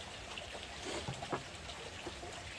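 Water trickling into a small vial for testing a new pool, a steady, close, soft pour with light splashy flecks running evenly throughout.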